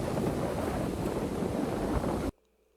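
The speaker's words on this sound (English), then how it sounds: "a wind gust comes out of nowhere." A wind gust sweeps through a cornfield, loud and close as a steady broadband roar battering the microphone, then cuts off abruptly into near silence.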